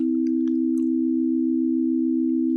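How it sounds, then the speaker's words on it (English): Two pure electronic tones a tempered interval apart hold steady together, their blend pulsing with a fast, faint rhythmic beating throughout. "I'll go back to playing them together, and you can hear that beating, right?"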